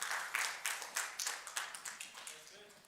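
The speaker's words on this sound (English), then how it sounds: "you can give a hand clap" A church congregation gives a short round of hand clapping, a sparse patter of individual claps at moderate distance with some talk underneath.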